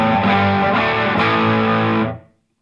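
Electric guitar played through a Costalab Dual Drive overdrive pedal on a classic crunch setting: a loud, sustained distorted chord ringing steadily for about two seconds before cutting off into silence.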